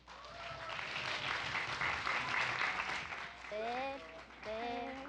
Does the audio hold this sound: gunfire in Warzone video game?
no